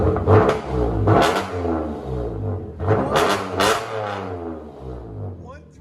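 A Chevy Camaro 3.6L V6 with an aftermarket exhaust revs up twice in quick bursts, loud and close, with a deep rumbling tone that rises and falls.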